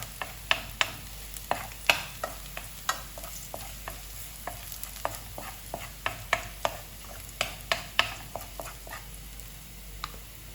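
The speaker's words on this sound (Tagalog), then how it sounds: "Ilagay natin itong bawang. Guys, gisa-gisahin na natin to para lumabas yung kanyang aroma." Garlic sautéed and stirred in a pan, heard as a steady string of sharp scraping stirs and taps over a soft, low sizzle, spaced irregularly every half second or so, fairly quiet and close, with no talking.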